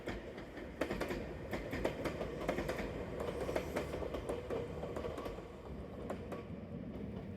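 A blue Medetai train runs along the Kada Line in Wakayama, a steady rumble with rhythmic clickety-clack of wheels over rail joints, moderately loud and continuous throughout with no voices.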